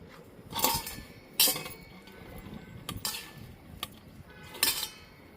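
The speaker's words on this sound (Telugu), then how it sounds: "ఫస్ట్ ఈ పచ్చసొనని మెత్తగా మ్యాష్ చేయాలండి, పేస్ట్ చేసేయాలి." Egg yolk is mashed into a paste in a bowl, heard as a few distinct scraping clinks of a utensil against the dish, spaced irregularly and fairly quiet.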